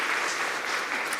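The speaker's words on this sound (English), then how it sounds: "A round of applause to" A conference audience at an agricultural finance learning event claps for a panel, a short, even wash of applause without talk.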